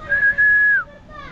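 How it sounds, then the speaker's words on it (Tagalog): A person whistles a single sustained note that bends downward at the end, clear and close, followed by a faint trailing tone. "Sipol mo na. Sipol."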